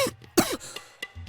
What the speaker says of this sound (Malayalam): നീ എന്താ ചുമക്കുന്നത്?